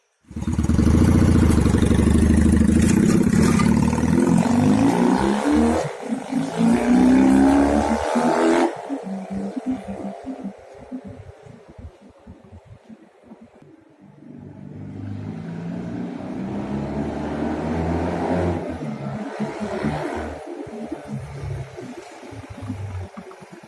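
A Fym FY250 motorcycle engine with an original dual-carburettor setup runs close by, loud and steady at first, then eases to a quieter, lumpier idle before revving again, with no talk over it.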